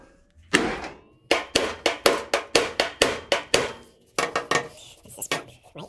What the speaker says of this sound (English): I'm going to use the pipe as my hammer.